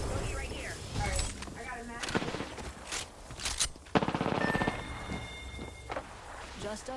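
Automatic and single gunfire in the battle royale shooter Apex Legends, several bursts of shots over a busy game soundscape, with voices talking over the action.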